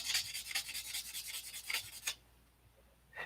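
Open-handed sanding of a surface makes a rapid series of rhythmic rasping strokes, close and fairly quiet, that stop abruptly partway through and leave near silence before a last brief scrape.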